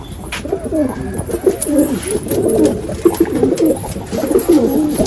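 Several pigeons coo close by in a low, throaty, overlapping burble that continues throughout, with no voices.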